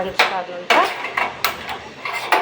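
A metal griddle pan set down on a home kitchen stove while making protein thalipeeth, giving a few sharp clanks and knocks spread over a couple of seconds, close and fairly loud, with no talking.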